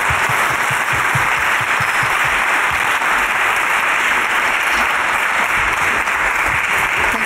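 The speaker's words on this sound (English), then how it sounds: "Let's give them a round of applause." Sustained audience applause for panelists at the close of a design thinking discussion event, loud and dense with steady clapping throughout, no voices over it.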